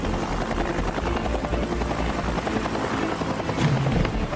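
A helicopter hovers very low for a precision stunt, opening beer bottles; its loud, steady rotor-and-engine roar fills the whole stretch without a break.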